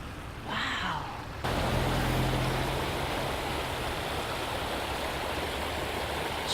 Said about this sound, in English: You can actually hear it like a waterfall.